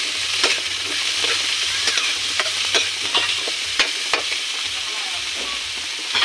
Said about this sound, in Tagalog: Isa-gisa lang.